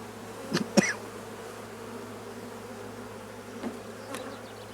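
Honeybees hum around a hive in a low, steady drone close by, with a few brief clicks and knocks near the start.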